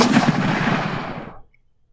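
A single loud, booming main gun shot from a Sherman tank in the video game Armoured Commander II, with a long rumbling tail that cuts off into silence.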